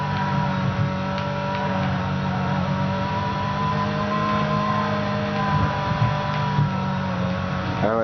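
A car engine in Midnight Club LA drones steadily as it climbs uphill under throttle, a continuous, moderately loud hum with layered harmonics and no speech.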